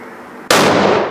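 Unsuppressed rifle shot fired outdoors during a suppressor point-of-impact test, a single sharp, loud blast with a long broadband decay, standing alone with no voices.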